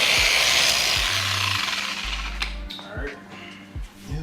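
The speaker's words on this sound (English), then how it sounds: "I'm just going to buff it out and get some of the imperfections out" A power buffer works factory clear coat on a Harley Sportster, giving a close rubbing, whirring friction sound that rises and falls as the pad moves across the paint.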